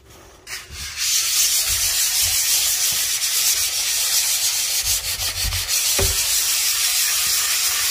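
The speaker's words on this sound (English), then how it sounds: "So I've sanded down the door," Steady, loud sanding of a door being prepped with filler before spraying, a continuous abrasive rasp that runs for nearly the whole stretch after a brief quieter start.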